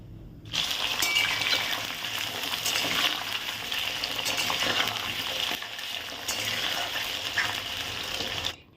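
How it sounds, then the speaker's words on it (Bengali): Potatoes fry in a pan in a home kitchen with a steady, dense hiss and crackle of hot oil that runs unbroken for several seconds, close and fairly loud, with no talking. "চলো এবার আলুটাকে ভেজে নিই"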